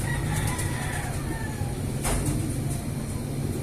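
A gamefowl rooster crows across a steady outdoor background, its call rising out of the mix with a broad burst near the middle; no one speaks.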